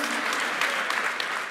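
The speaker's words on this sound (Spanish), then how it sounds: "Dale un fuerte aplauso al Señor." A church congregation applauding, a dense, steady wash of many hands clapping at once that fills the whole stretch, fairly loud and even, without a break.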